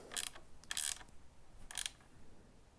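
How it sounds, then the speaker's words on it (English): Mechanical ratcheting clicks from an 8mm tool tightening an acorn nut on a Touratech Defensa handguard of a KTM 790/890 Adventure motorcycle, in three short bursts with pauses between, close and fairly faint. "we're going to tighten up the acorn nut on the top of this here with the 8mm"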